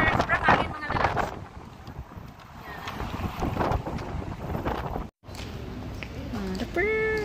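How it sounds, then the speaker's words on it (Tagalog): Strong wind buffets the microphone in a loud, continuous roar on an outing by boat, with voices talking over it and a short dropout near the end. "Sobrang hangin mga lalabs."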